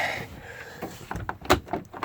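A household drawer slides open and items inside are shuffled around, giving a few close knocks and rattles that grow busier toward the end.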